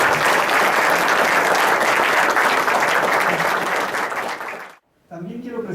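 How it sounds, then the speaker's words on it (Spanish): Sustained audience applause at a university book presentation, dense and even for nearly five seconds before cutting off abruptly, followed by a brief moment of speech. "pido para él un aplauso"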